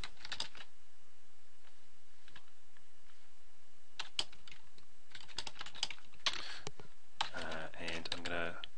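Bursts of quick keyboard typing while writing Delphi code, clustered in short runs separated by pauses, fairly quiet and close against a low background hum.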